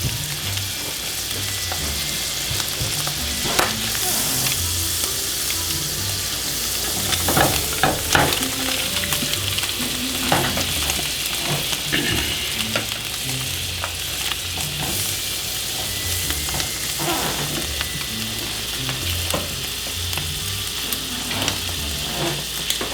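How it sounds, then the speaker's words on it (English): Butter melts in a pan with a continuous soft sizzle and crackle while scrambled eggs are made nearby, steady and moderately close, with occasional light clinks and no voices. "I'm going to melt a little bit more butter here"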